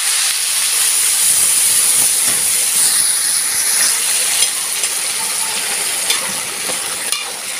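Water poured into a hot pan of sautéed rice and onions steams and hisses loudly and steadily throughout, a continuous broadband sizzle with faint stirring clicks, no voices.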